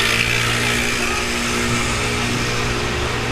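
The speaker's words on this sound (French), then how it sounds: "sa moto a fait du bruit" Motorcycle engine revving and droning nearby, a loud continuous buzz with steady low harmonics and broad high-pitched hiss, no voices.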